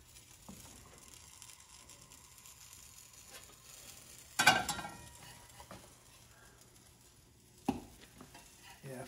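Pancake batter frying in a pan on Shrove Tuesday gives a faint, steady sizzle, broken by a couple of brief louder clatters.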